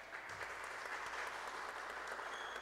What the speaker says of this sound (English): that's the first round of applause we've heard for this amazing play in the entire match